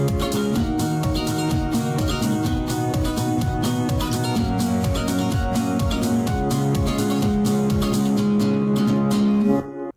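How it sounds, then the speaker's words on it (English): A synth drop lead melody plays over a full FL Studio arrangement, with punchy rhythmic kicks, bright stacked chords and a bass line, loud and continuous until an abrupt cutoff at the end. "It has the drop lead in the part,"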